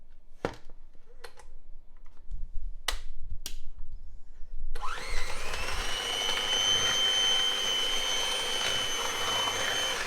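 An electric mixing machine runs on cake ingredients. A few light taps and knocks come first, then the motor starts with a steady, loud whirring whine that holds to the end.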